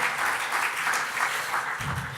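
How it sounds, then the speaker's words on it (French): Steady applause from a conference audience, dense clapping throughout with no voices over it. "On peut l'applaudir."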